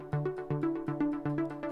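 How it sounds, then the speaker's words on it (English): A synth pluck in a melodic house track repeats as short, evenly spaced notes with quick decays in a steady rhythm, forming a clear melodic line with nothing else in the mix. "This kind of pluck sound,"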